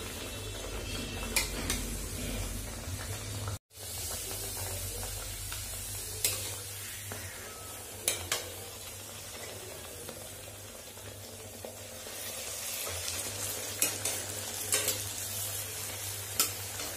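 Luchi fry in hot oil in a wok (kadai) in a home kitchen, a steady bubbling sizzle running throughout with occasional sharp clicks and scrapes of a utensil stirring or turning the bread.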